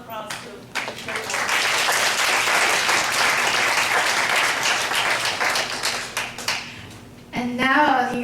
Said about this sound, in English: I give a round of applause to